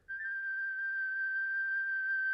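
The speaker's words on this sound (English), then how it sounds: "this like flute solo that I did, I think on like a Logic Mellotron" A single breathy, flute-like note from a Logic Mellotron flute held steady for a couple of seconds, clean and alone, with no other instruments.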